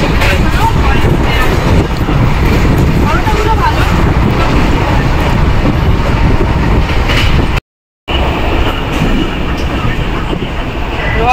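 A passenger train on a long, hot journey to NJP rumbles loudly and continuously from inside the carriage, with wind buffeting and a short silent dropout partway through.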